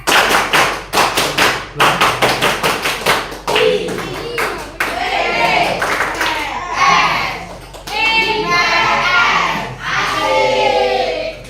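Students in an Indonesian junior high classroom perform a rhythmic clapping chant, with sharp group claps in quick patterned bursts, then loud children's voices chanting together between claps.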